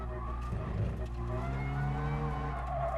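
A Mazda Roadster in the Gran Turismo Sport racing game revs high, its engine tone climbing and holding in steady harmonic whines, with a brief scuffing tire sound early on, all heard over steady game audio.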